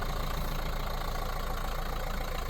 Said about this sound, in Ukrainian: Мотор працює коректно, самі чуєте на відео.